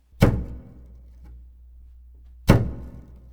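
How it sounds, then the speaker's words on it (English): Two percussive chop strokes on the low two strings of a double bass, each a sharp thunk with a woody attack that decays quickly, spaced about two seconds apart and played alone. "then I'm going to play some chop strokes on the low two strings"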